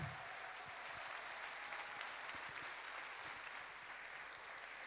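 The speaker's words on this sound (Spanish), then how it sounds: "Así que os pido un fortísimo aplauso para Maribel Salas, Carlos Overa y La Ochoa" An audience in a theatre applauds during a musical tribute gala, with steady, dense clapping from a full crowd throughout, moderately distant and even, without voices.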